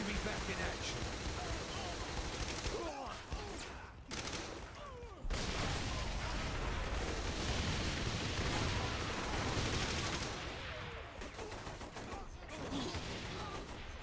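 Explosions and gunfire from the video game Saints Row: The Third Remastered, dense bursts of shots and blasts filling most of the clip with brief lulls, heard under people talking.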